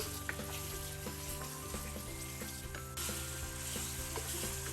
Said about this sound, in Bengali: মাংসগুলো দিয়ে ভালো মতো করে থেমে থেমে এক থেকে দুই মিনিট চুলার আঁচ মিডিয়াম করে নাড়াচাড়া দিব